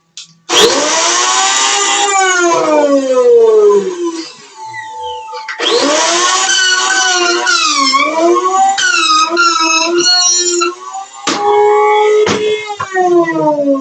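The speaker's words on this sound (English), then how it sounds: "I'm going to grab my little blender over here." Small kitchen blender whirring loudly as it blends garlic confit, with a rising and falling motor whine in two long runs, a short pause between them, and a few quick pulses at the end.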